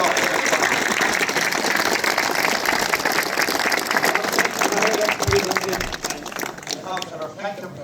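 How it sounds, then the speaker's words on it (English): Loud, sustained applause and cheering from a crowd honoring the committee at the opening of the Westport Athletics Club tartan track, steady for most of the stretch before thinning out near the end, with voices mixed in. "if you give all the committee a big round of applause for all the work that they've done"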